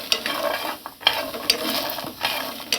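Jackfruit seeds frying in a pan on a gas stove, with a steady close sizzle broken by repeated scraping and clinking strokes of a utensil stirring them.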